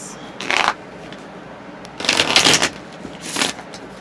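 Tarot cards being shuffled and drawn by hand, three short riffling bursts, close and fairly loud, with quiet room background between them.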